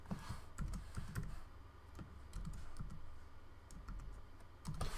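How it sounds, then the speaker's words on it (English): Fingers type on a computer keyboard, a quiet, close run of irregular key clicks in short bursts with small pauses between them. "So if I type into here Joe blogs and the password"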